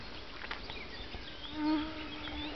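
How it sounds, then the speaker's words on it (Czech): Mosquitoes buzz close around a person at a campsite by the Danube, a thin, steady whine over a hissy outdoor background, with one insect swelling louder as it passes near. "Mám 100 komárov na sebe."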